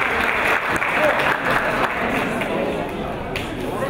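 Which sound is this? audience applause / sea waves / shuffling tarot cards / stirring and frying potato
audience applause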